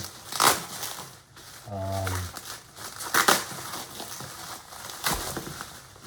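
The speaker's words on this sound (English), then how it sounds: "nicely bubble wrapped. While I'm unwrapping this" A bubble-wrapped board game add-on package is unwrapped, producing close, bursty crinkling and crumpling of plastic wrap in several loud rustles, with a voice briefly speaking between them.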